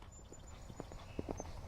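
A horse canters during a riding lesson, its hooves giving a few soft, distant thuds in a quick rhythm over faint background noise.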